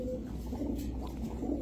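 Silver pigeons, including a hen, coo in a low, soft, continuous murmur close by, over a steady background hum, with no talking.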